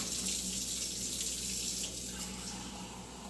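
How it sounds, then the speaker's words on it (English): Tap water runs steadily into a container with a soft, continuous rushing, fairly quiet and unbroken throughout. "I'm going to put tap water in here."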